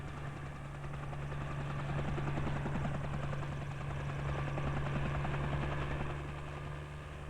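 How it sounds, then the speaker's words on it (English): A helicopter flies over harvested land scattering tree seeds, its rotor thumping in a steady, loud, continuous drone that swells slightly in the middle. "So the seeds are dropped from the helicopter onto the ground."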